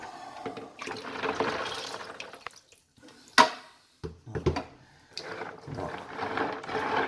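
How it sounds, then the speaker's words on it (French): Water is poured into a JBL e902 aquarium pump filter, with splashing, gurgling and dripping in several separate pours broken by short pauses and a sharp knock. "on va mettre un peu d'eau"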